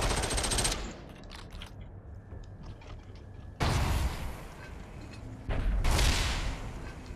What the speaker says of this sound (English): somebody's shooting him from up top